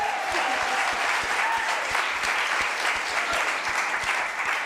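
Enthusiastic audience applause at a Hebrew College spring gala, a dense, sustained wash of many hands clapping at steady loudness for the whole stretch.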